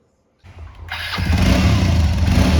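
A motorcycle engine starts up before a family bike ride, a short crank followed by a rising, steady rumbling idle that grows loud and stays close for the rest of the clip.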